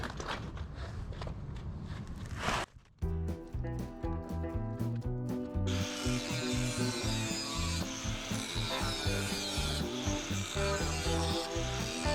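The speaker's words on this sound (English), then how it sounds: "All right, back to the grinder." An angle grinder cuts through metal on an REO F20 truck, starting with rough scraping, then settling into a loud, steady whine with a pulsing grind for about ten seconds.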